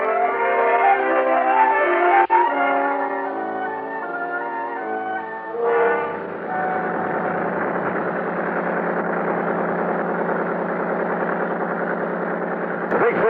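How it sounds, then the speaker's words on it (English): A big 35 boat engine drives a boat up a lake in a vintage radio drama, a steady droning hum that runs for the whole stretch. "The big 35 on Buster's boat pulled us up the lake at an easy 39"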